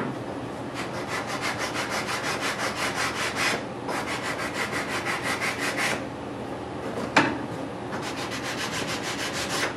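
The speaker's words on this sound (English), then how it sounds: "Now you notice I'm not sanding by hand, but I have a sanding block." Sanding block rubbed over cured super glue on a guitar fingerboard in quick rhythmic back-and-forth strokes, close and steady, with two short pauses and a sharp knock partway through.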